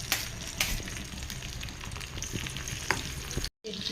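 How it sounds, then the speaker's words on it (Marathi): Green chillies dropped into hot oil in a kadai crackle and sizzle up close, with a steady frying hiss broken by sharp pops and spits, then a brief silence just before the end. "तेल छान गरम झालं तर त्याच्यामध्ये मी मिरची घालते।"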